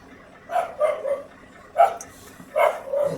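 Outdoors on a city morning, a dog barks several times in short, irregular bursts, moderately close, over a low rumble of traffic or engine noise.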